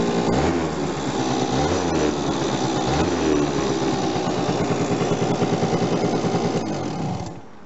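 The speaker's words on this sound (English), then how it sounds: "just give it a short rev for you." A 1997 Suzuki AP50 scooter engine buzzes close and loud, rising and falling in pitch as it revs, then drops back toward idle at the end, with no voices.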